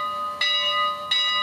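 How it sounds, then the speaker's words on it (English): Bell from a TCS WOW sound decoder in a Sunset Brass PRR M1 model steam locomotive, ringing at full volume with two loud, bright strikes and a long ringing sustain between them. "And then that should have made our bell full volume."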